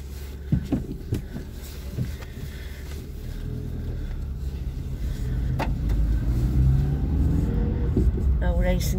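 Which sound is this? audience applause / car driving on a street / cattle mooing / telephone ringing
car driving on a street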